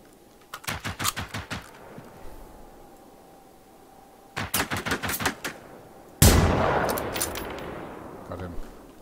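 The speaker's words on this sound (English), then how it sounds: "Stop shooting at me!" Short bursts of automatic gunfire in the video game Generation Zero, two rapid volleys of sharp shots followed by a louder, rougher blast that trails off, with no talking during the firing.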